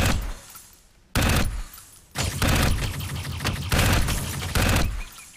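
A plasma gun in the Xbox 360 game Dark Void fires repeated heavy blasts, each a loud booming burst separated by short gaps, close and punchy with no speech over it.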